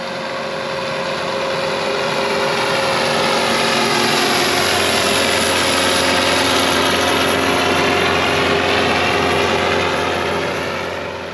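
A self-propelled hay swather's engine runs loudly and steadily as the machine pivots on one front wheel, a dense droning roar with a constant hum that swells briefly and holds, near and uninterrupted for several seconds.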